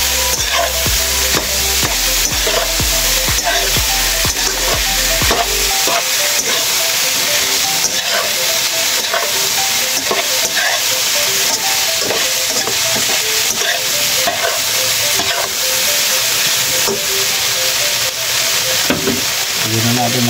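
Pork adobo with lemongrass frying loudly in a pan, a dense continuous sizzle and hiss with repeated stirring scrapes and taps, close up and with no speech.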